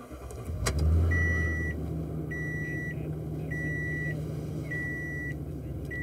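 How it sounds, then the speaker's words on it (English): A 2014 Toyota Tundra with a hard-start, long-crank fault turns over briefly and catches, then settles into a steady idle while a chime beeps repeatedly at even intervals. "I'll go ahead and start it back up."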